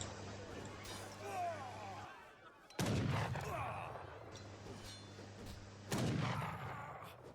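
Gunfire during a battle in a real-time strategy game's 2v2 tournament match: two sharp bursts of volleys over a busy bed of game noise, with a faint murmur of voices underneath.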